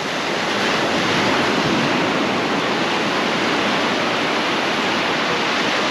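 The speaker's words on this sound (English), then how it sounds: "Nice to hear the ocean." Atlantic Ocean waves wash onto a beach at Old Orchard Beach, Maine, a steady, close, broad surf hiss with no distinct breaks and some wind across the microphone.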